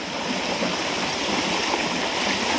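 Water flowing in a canal rushes steadily and continuously nearby, a broad, even gurgling roar with no pauses and no talking.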